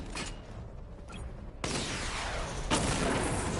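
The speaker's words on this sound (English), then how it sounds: "Missile barrage level 1 ready." A missile barrage fired in the video game Batman: Arkham Knight: a quiet mechanical hum, then a sudden loud broadband whoosh and a second rushing blast, layered into a dense volley of launches.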